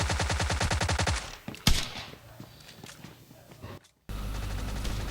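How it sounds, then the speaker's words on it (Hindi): Rapid S12K shotgun fire in PUBG Lite, a quick string of evenly spaced blasts up close, then a single sharp shot followed by quieter footsteps and movement in the game. "कितनी भी गोलियां मार लो, आज तो मेरी गोली रजिस्टर ही नहीं होगी।"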